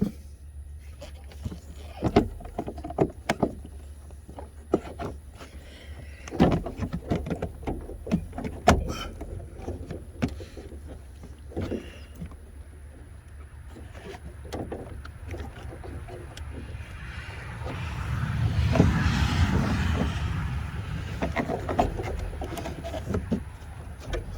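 Plastic A/C box being pried loose inside a BMW 5 series, a run of scattered clicks, knocks and creaks close by, followed by a longer scraping, rubbing stretch as the part shifts.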